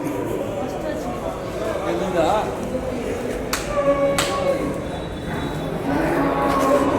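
Cattle at a busy livestock market in Vaniyambadi, with a large running bull among them; crowd chatter and movement fill the background, with occasional sharp knocks and brief animal sounds mixed under nearby voices.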